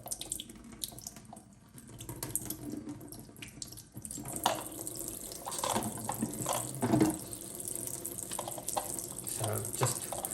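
Tap water runs steadily as fluff is rinsed off Miele W1 washing machine parts, with splashing changes as the parts move under the stream, close and moderately loud.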